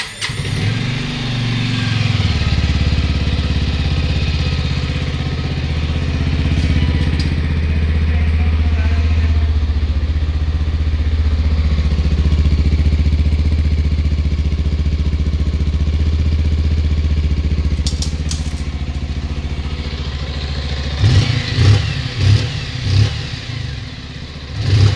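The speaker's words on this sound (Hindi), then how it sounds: "अब एक बार इसका अपन इंजन साउंड और एग्जॉस्ट साउंड भी सुन लेते हैं।" A 2023 Bajaj Avenger 160 Street motorcycle idles with a steady, thumping engine and exhaust note, close by and loud, ending with a few sharp throttle blips.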